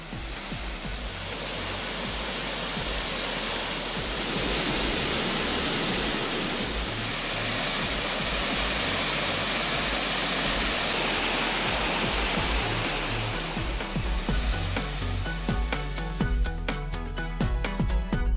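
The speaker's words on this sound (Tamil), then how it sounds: "தேனி மாவட்டம் கும்பக்கரை அருவியில் சீரானது நீர்வரத்து." Kumbakkarai waterfall in Theni district roars as a dense, continuous broadband rush that stays loud and steady throughout, with no voices over it.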